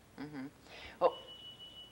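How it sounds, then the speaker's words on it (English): A phone beeps once, a thin sustained electronic tone that lingers briefly, following a moment of nearby talk. "I got a beep."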